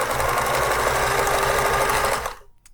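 A Pfaff 360 sewing machine running a fast satin-like embroidery stitch, loud steady mechanical whirring that stops abruptly near the end, close up with no talk.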